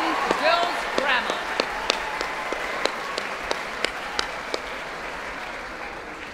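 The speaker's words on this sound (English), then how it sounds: "Another round of applause for Paradisa from Epsom Girls Grammar." Audience applause for a girls' school choir at a gala concert, a steady wash of clapping with a few sharp individual claps standing out, moderately loud and fading slightly toward the end.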